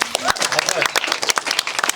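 A congregation claps after a baptism in church, a brisk scattered round of hand claps filling the two seconds, with voices mixed in underneath.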